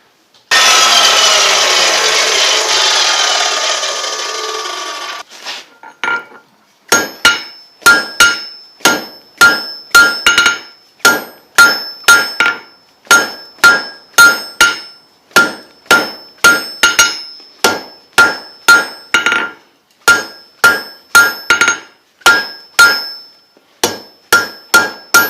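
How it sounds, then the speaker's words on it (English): An Evolution cutoff saw whines through metal for about six seconds, then a long run of sharp, evenly spaced hammer blows rings out while forging a workbench holdfast. "My Evolution cutoff saw."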